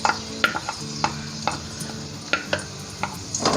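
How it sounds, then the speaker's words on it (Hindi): Chopped garlic dropping into a cup of already hot oil, giving a soft, close sizzle with a scattering of small crackles and pops, quiet and steady with no talking. "इसमें मैंने 1 कप ऑयल पहले से डाल लिया है और ऑयल गर्म हो चुका है, तो इसलिए मैं अब इसमें लहसुन डाल दूंगा"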